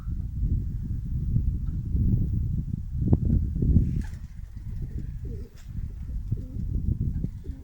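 Pigeons cooing steadily at a loft, low rounded calls layered over one another, with a few brief higher chirps and wing or rustle sounds in the background.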